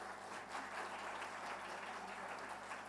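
Audience clapping at an education conference in a hotel ballroom, a steady, moderately loud round of applause filling the hall throughout, with no talk over it.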